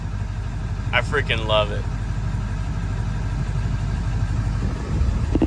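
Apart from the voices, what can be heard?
2000 Ford F-350 dually truck engine idling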